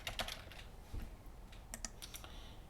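A handful of quick keystrokes tap on a computer keyboard, quiet and close, in a short irregular burst with no voices.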